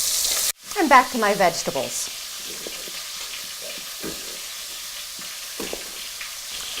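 Meat fries in a pan for a ragu, a soft steady sizzle running throughout after a sharp knock at the start, with a person speaking briefly early on.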